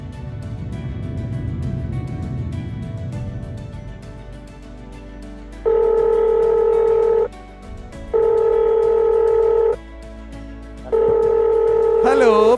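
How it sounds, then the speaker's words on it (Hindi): A telephone is dialed for a call: three long steady tones sound in sequence with short gaps, with a voice speaking earlier and a faint clicking beneath. "हम प्रेमचंद माली को फोन मिलाते हैं।"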